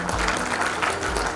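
Audience applause at the Delhi God Gift Ratna Award ceremony in 2019, honouring soldiers: a steady wash of crowd clapping that holds for a moment, moderately loud, with a low hum under it.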